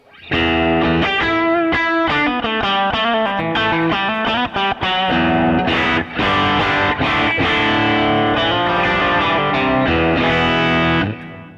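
A heavily overdriven electric guitar plays loud, buzzing chords and single-note riffs through a 1968 Fender Twin Reverb amp cranked to 10 with the bright switch on, with a bright, gritty edge throughout and no talking.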